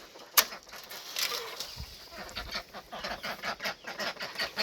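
Ducks dabble and quack softly in a muddy pond in a forest garden, a string of faint close splashy calls and rustling with a sharp knock near the start, no voices.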